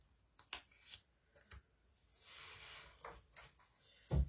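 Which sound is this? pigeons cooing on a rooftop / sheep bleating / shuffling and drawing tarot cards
shuffling and drawing tarot cards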